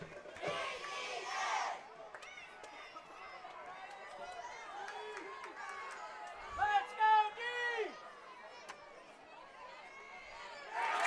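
A crowd at a Dragons versus Kennett Indians football game roars with shouting and chatter, swelling into loud bursts of cheering midway and again at the end.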